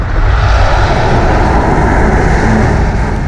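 A car engine roars loud and steady under hard acceleration, a dense continuous drone close to the listener with no speech over it.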